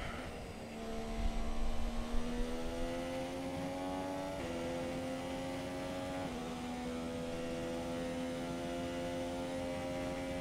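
An F1 2017 race car running short of power, a steady high engine whine holding pitch with small downward steps at gear changes, continuous and moderately loud with no talking.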